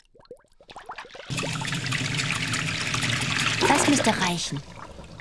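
Water runs from a tap as a baby bottle is rinsed in a horse-farm video game, a steady close splashing stream for several seconds after some short clicks, with a brief spoken remark near the end.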